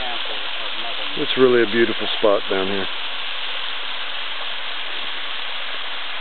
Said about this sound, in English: show you what it looks like from the top of the waterfall at Gid, where the old grist mill used to stand